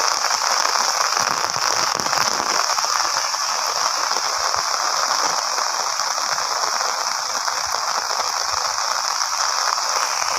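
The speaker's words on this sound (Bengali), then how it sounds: "তামাম বৃষ্টি হইতেছে" Sudden rain falls outdoors after a hot sunny day, a dense, steady hiss of drops that stays loud and even throughout.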